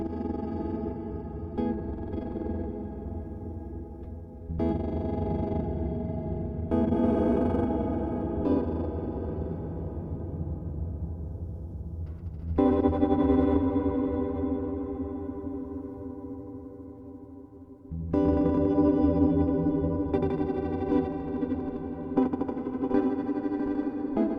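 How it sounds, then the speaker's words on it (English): Glitchy granular reverb texture from the Scatter plugin with reduced size, processing sustained synth chords into fragmented, shimmering washes that swell and cut off in several distinct blocks. "here I turned down the size so you can really hear this like kind of glitchy"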